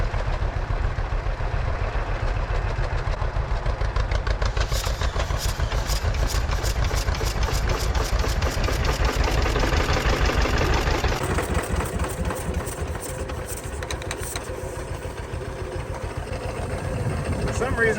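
An 83-year-old John Deere B tractor engine firing up after being stuck, first a rough steady run, then a rapid, loud, evenly spaced putt-putt pulsing that persists to the end, close by with some talking underneath.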